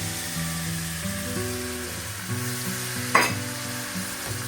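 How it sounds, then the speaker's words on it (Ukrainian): Steady loud sizzling and frying from a pan on a gas stove, with a continuous hiss and a sudden sharp spurt partway through as broth hits the hot surface. "Зараз я наберу трошечки юшки, добавлю на мою сковорідку"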